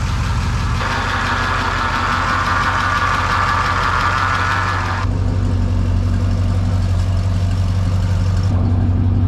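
A 1955 Studebaker Speedster with a professionally rebuilt engine and dual stainless exhaust idles close by, a steady, loud, low rumble with an even pulse that shifts tone partway through, with no talking.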